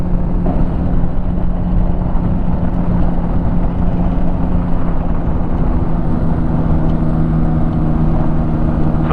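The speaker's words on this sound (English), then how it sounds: "we're just going to level out and skim the runway until the wheels are down" Inside a Challenger light aircraft on its landing approach, the propeller engine sets up a continuous steady drone with a low humming tone that stays loud and unchanging throughout, with no voices.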